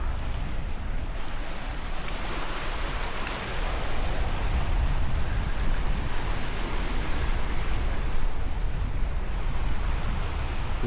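Ocean waves at Magic Island in Ala Moana Beach Park, a steady broad wash of surf breaking and hissing continuously at moderate distance, with soft wind noise and no talking.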